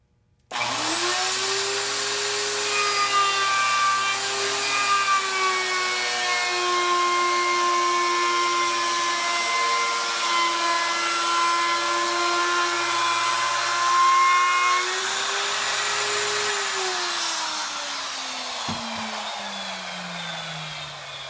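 A router cuts along a hardwood edge with a steady high-pitched whine that holds for most of the run, then spins down as the motor winds off near the end, with no talk.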